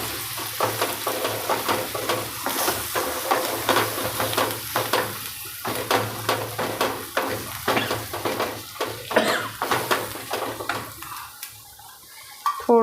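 Chickpeas and potatoes sizzle steadily in a hot pan while a spoon scrapes and clinks through them in repeated strokes, close and fairly loud, with no voices.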